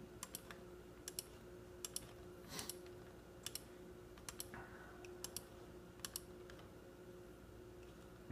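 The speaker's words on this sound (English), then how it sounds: "Let's type it in." Someone types a search into a computer keyboard, a run of light, irregular key clicks in quick bursts and pauses over a steady low room hum, with no talking.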